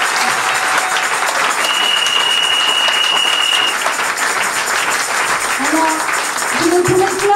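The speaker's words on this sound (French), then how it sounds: "Vous pouvez acclamer pour vous." A church convention crowd at an evening women's event claps loudly and continuously, with dense, sustained applause filling the room. A voice and a thin steady tone carry over it.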